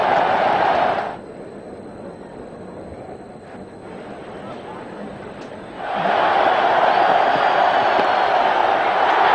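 Cricket crowd roaring for a batsman's half-century in a 300-plus run chase by India: a loud, broad stadium roar that drops away for several seconds, then surges back strong and sustained.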